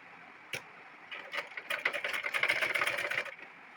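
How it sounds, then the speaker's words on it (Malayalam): A sewing machine stitching an abaya gown sleeve: a single tick, then a quick run of rapid mechanical needle clatter building and stopping, close but fairly quiet, with no talking. "ഇനി നമ്മൾ കൈ കൂട്ടി സ്റ്റിച്ച് ചെയ്യാം കേട്ടോ"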